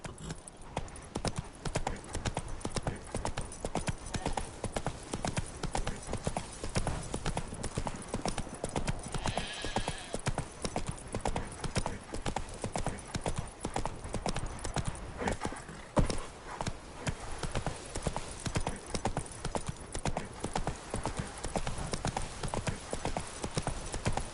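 A horse named Roach clip-clops along at a steady walking rhythm in a video game, hooves sounding close and continuous with a brief whinny and occasional speech over the top.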